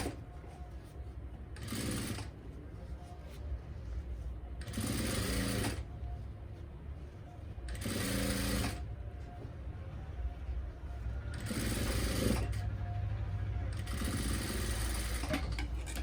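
A sewing machine stitches a salwar hem in five short, rapid whirring bursts separated by quiet pauses, close and clear over a low room hum.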